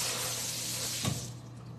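Tap water runs steadily over a nectarine being washed in a sink, a near, even hiss with a brief splash partway through.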